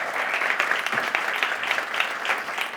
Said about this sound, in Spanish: Pido, por favor, pues un aplauso